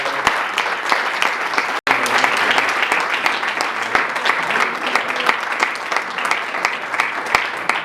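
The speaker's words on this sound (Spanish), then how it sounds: "un fuerte aplauso para Xavier" Sustained audience applause for a guest speaker at a Spanish-language anti-war talk, dense steady clapping from a crowd for about eight seconds with one very brief break near the start.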